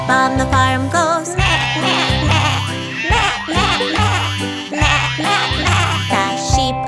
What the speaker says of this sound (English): The sheep on the farm goes